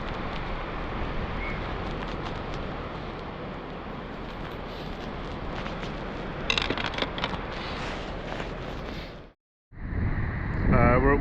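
Strong wind buffets the microphone at Watergate Bay, Cornwall, a loud continuous roar that runs almost unbroken before a brief drop to near silence and a return of the gusting rush.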